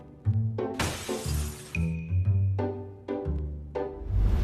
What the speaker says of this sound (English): security at a train station found a glass door was broken